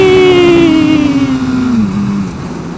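A motorbike engine revs hard as the rider pulls a wheelie on a winter road ride, a steady mid-pitched drone that slowly drops in pitch as the throttle eases, loud and close.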